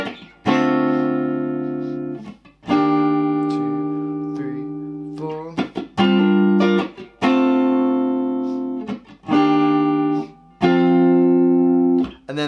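Strummed acoustic-style guitar chords of a song's chorus played in bursts, each chord ringing and fading before the next, with short pauses between phrases; close and loud.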